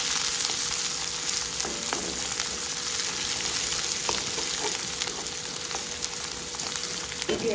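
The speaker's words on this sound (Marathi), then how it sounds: "छान असा कांदा भाजून घ्यायचा गोल्डन कलरवर" Onion frying in oil with cumin seeds and curry leaves for rawa upma, a steady close sizzle with occasional stirring scrapes, continuous throughout.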